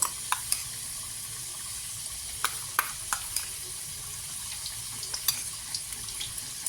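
Ginger and cumin paste goes into hot oil with bay leaves for a homestyle vegetarian bottle gourd greens and poppy seed dish, giving a steady close hiss with scattered sharp crackles and pops.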